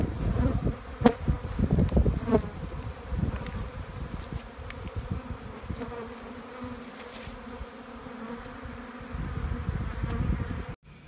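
Honey bees buzz steadily around hives in a large holding yard, a dense swarm drone with occasional louder passes close by, and no voices.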